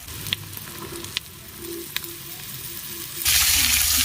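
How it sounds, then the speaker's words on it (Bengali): Green peas and capsicum frying over a high flame, a close steady sizzle punctuated by a few sharp spatula clicks, then swelling abruptly into a louder, dense hiss. "মটরশুঁটিটা দেওয়ার পরে এখন আমি হাই ফ্লেমে 2 মিনিট মতো খুব ভালো করে ভেজে নেব।"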